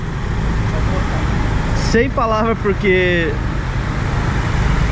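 Steady street traffic near Kuta beach rumbles and hisses, with cars and other vehicles passing close by, while a person briefly speaks over the constant road noise.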